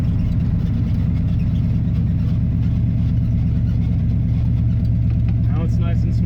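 A car engine fitted with a Holley carburetor pulls away from a stop and runs up through a gear change, a loud steady engine drone close by with a voice speaking over it.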